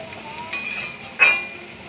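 Crab pieces fry in a generous amount of oil, giving a soft, steady sizzle with a couple of sharp stirring clicks partway through; no one speaks.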